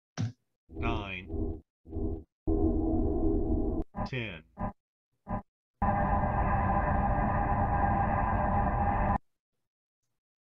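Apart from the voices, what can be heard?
game turn indicator beeps, four beeps and long whoom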